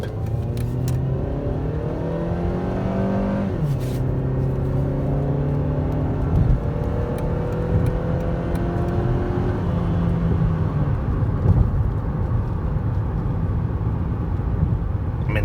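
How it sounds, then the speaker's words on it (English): Steady engine drone from inside a 2014 Dodge Avenger with the 2.4 engine and 77,000 miles, heard while driving; the pitch climbs, drops at an upshift, and climbs again over constant road noise. "It drives fairly well, drives pretty straight, tracks nicely."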